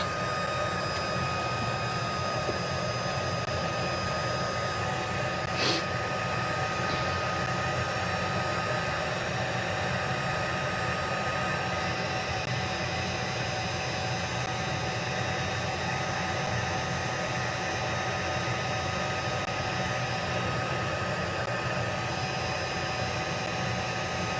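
An embossing heat tool used on stamping powder blows a steady, even whooshing hiss that stays close and constant throughout, with no talking over it.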